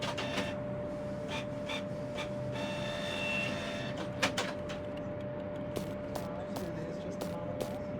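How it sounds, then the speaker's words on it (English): A printer whirs and clicks in an office simulation video game, a soft mechanical run with a few sharp clicks over steady office hum. "a printer sound"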